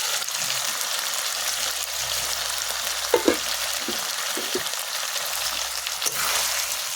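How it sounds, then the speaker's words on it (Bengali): Potatoes and meat fry together in a pan, a steady sizzling hiss broken by a few soft knocks and scrapes of stirring, with no talking. "আলুগুলোকে দিয়ে আরেকটু কষিয়ে নিব।"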